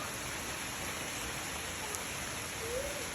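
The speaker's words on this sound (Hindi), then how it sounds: "बारिश की आवाज़ का अपना ही एक खूबसूरत मज़ा है और सुकून है" Steady rain falls across Miandam valley in Swat, a soft, even hiss of drops that holds unchanged from start to finish with no voices and no other clear sounds.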